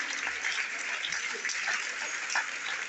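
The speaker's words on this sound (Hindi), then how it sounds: "आपकी तालियां बजती रहनी चाहिए जब तक माननीय उपायुक्त महोदय मंच पर है।" Steady, faint audience applause at a district news event in Bhiwani, an even wash of clapping that continues throughout without pause.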